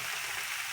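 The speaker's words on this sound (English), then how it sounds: "So we're going to go ahead and saute this, and I'm going to cover it for about 3 minutes." Vegetables sauté in a pan on medium heat for German noodles, giving a steady, even sizzle that hisses without pause and stays fairly quiet, with no voices over it.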